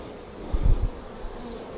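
A honeybee queen flies in circles near a hive, giving a brief low buzz that swells and fades over about half a second against quiet background noise.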